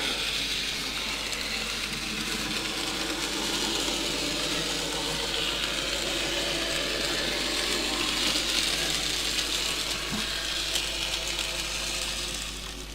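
A small radio-controlled HO-scale locomotive runs on level track. It makes a steady, close mechanical whir with a faint gear-like clatter, continuous and even throughout, with no talk.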